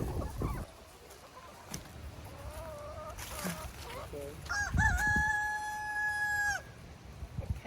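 On a farm, a rooster crows in a long drawn-out call while chickens cluck around it, all fairly faint and set against background noise, with some people talking nearby.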